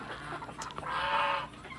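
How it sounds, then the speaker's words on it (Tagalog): Chickens cluck and squawk close by in a brief burst of calls, with no talking. "Yan ang ating mga manok ngayon."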